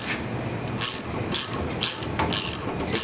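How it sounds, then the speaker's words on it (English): A ratcheting wrench cranks down a power steering hose fitting on a high-pressure hose, giving several quick bursts of close, crisp ratchet clicks with short pauses between strokes. "take a ratcheting wrench, crank this all the way on."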